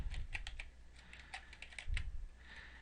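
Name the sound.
typing a macro name on a computer keyboard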